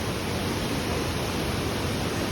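Tinoy-an Falls in Mindanao, a waterfall, pours in a steady, dense broadband roar that stays even and loud throughout with no breaks.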